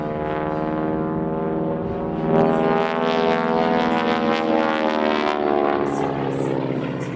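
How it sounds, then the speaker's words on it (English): An AT-6 Texan propeller airplane flies at an airshow, a loud, steady droning engine and propeller roar that swells slightly as it passes, with no talk. "the T-6 is underpowered for its weight and requires a high degree of skill and planning to fly in the air show environment"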